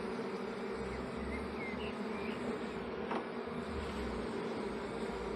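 Honeybees buzzing steadily at a hive during queen rearing, a dense continuous drone of many insects close by with no voices.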